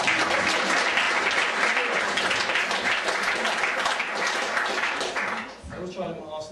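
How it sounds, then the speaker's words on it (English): An audience at a stage and cabaret magic show breaks into sustained applause, a loud, dense wash of clapping that fades toward the end, with a voice talking over it. "Give her a round of applause."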